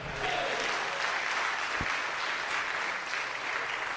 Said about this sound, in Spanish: Y denle un aplauso al Señor.